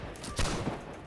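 Musket gunfire from a line battle in Holdfast: Nations at War, heard as a sharp burst of shots with a brief louder crack midway over a busy, noisy battlefield background.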